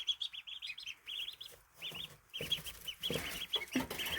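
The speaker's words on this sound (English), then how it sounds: "Well, the ducklings look pretty happy." Two-day-old ducklings peep in rapid, high, repeated bursts close by, sometimes overlapping, while soft rustling and shuffling grow louder toward the end.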